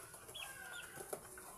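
Quiet, soft clucking from chickens with a brief flutter, low-level farmyard background, no talking.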